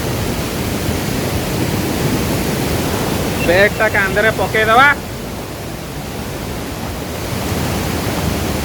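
A continuous broadband roar of Chaulibhaja waterfall fills the scene, with someone speaking briefly over it partway through.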